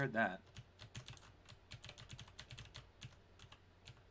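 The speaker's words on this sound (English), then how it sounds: "Yeah, that's my mechanical keyboard." Fast, irregular clacking of keys on a mechanical computer keyboard, close and fairly quiet, with a steady run of crisp individual keystrokes and no talking.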